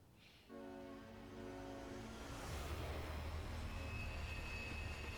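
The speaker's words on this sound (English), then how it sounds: "It's a train." Video game train from Earthlock: Festival of Magic drawing nearer, a faint low rumble that swells and thickens over several seconds, with a high steady whine on top and no talking.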